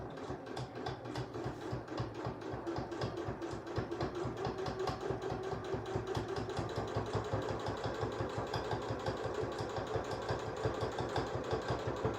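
Sewing machine running steadily along a bag seam, a continuous rapid mechanical chatter of stitches at even speed, close and moderately loud with no talking.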